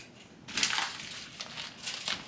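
A cat plays with a piece of plastic on the floor, making faint crinkling and crackling bursts in short irregular clusters, soft and close with no voices.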